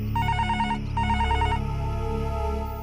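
A telephone rings on a call, a warbling electronic ring tone sounding in two quick bursts and then fading into a steady tone, loud and alone without voices.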